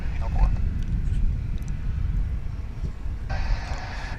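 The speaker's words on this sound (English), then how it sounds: "Got another A319 for you here, folks." An American Airlines Airbus A319 bound for Wichita rumbles at DFW International Airport: a low, distant jet roar with wind buffeting the microphone and a brighter surge of engine noise near the end, while people talk nearby.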